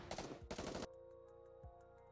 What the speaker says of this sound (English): is preemptively halted by a hail of gunfire to its core